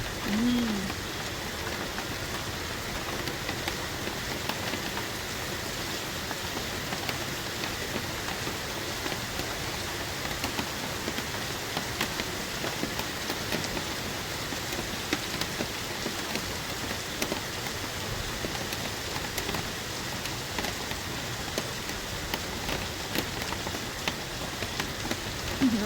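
Steady rain falling on a surface, a dense continuous patter that holds at an even, moderate level throughout with no pauses.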